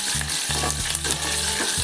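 Garlic, cumin, dried red chilies and curry leaves frying in hot oil for a tadka, a loud, steady sizzle with bursts of crackling and spluttering throughout.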